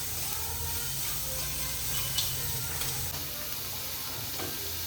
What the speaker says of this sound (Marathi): हळद, कांदा घालून एकसारखं परतून घ्यायचंय